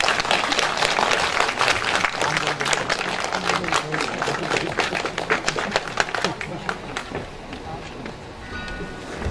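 A concert audience at a patriotic poetry-recital event in Gangbuk applauds as a singing environmental-engineering professor is welcomed: loud, dense clapping from many hands that slowly thins and fades toward the end.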